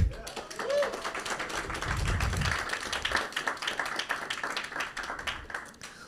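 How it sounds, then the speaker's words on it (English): Audience applause welcoming the Union of Artists and Writers of Cuba at an evening event, scattered claps building into a steady patter for several seconds, with some background voices mixed in. "Let's give an applause."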